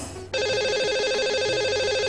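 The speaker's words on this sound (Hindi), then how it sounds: "तो लगा लेते हैं इन्हें कॉल और करते हैं इनसे बात" A telephone rings out as a call is placed to a caller on a Hindi radio show, a steady electronic ringtone with a warbling repeated tone that starts abruptly after a brief lead-in and carries on loud and unbroken.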